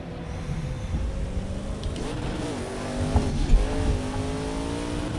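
A race car engine in Project Cars 2 drops through the gears on corner entry, its steady drone dipping and climbing in pitch with a short rev blip, loud, close and continuous.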